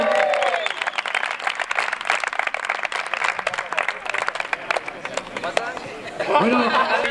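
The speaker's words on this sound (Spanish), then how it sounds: "¡Maya Echevarría! ¡Un aplauso!" A crowd claps steadily at a trophy ceremony after the final workout of the 2014 CrossFit Pamplona competition in Cintruénigo. The applause is dense and continuous, with chatter mixed in and a voice rising briefly near the end.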